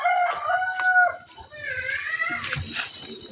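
A backyard rooster crows loudly and close by, with a long rising and falling call; a second crow overlaps it near the end, and other chickens cluck in the background.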